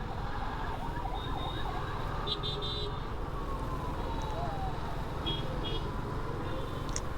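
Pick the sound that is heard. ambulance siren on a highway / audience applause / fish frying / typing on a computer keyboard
ambulance siren on a highway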